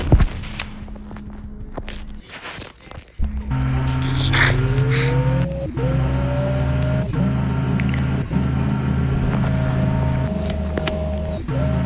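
A car drifts in the video game Chicken Gun, its engine droning steadily with rising and sustained tire-squeal tones and occasional clunks, loud and continuous after a quieter start.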